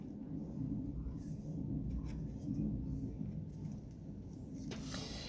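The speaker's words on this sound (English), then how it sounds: "I'm going to start off by drawing my" Pen drawing a PV diagram on paper, a soft continuous scratching that runs through the whole stretch at steady level with faint low background rumble.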